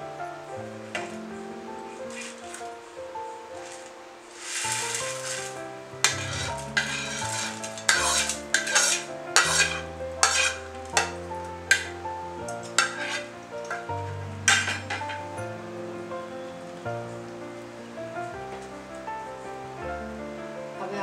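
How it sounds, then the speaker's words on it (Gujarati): A spoon stirs boiling milk with fried edible gum (gond) and flour for halwasan, scraping and clinking against the pot in quick repeated strokes over a soft bubbling sizzle, with a light tonal background. "આપણે આને બરાબર સરસ રીતે મિક્સ કરી લઈશું અને કન્ટિન્યુઅસ અને સ્ટર કરતા રહીશું"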